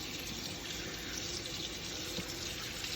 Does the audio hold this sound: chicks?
no